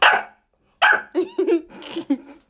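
A puppy barks aggressively at toilet paper, a sharp opening bark, a pause, then a string of yips, growls and rapid barks, close and loud with no talking.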